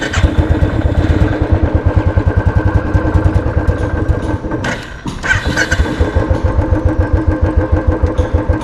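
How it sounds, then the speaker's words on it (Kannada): A motorcycle engine runs at idle near the microphone, loud and steadily thumping. Partway through there is a brief stall-like dip, then the engine catches again and resumes the same even rhythmic chug. "ಗಾಡಿ ಸ್ಟಾರ್ಟ್ ಮಾಡಿ ಒಂದು 5 ನಿಮಿಷ ಬಿಡಬೇಕು."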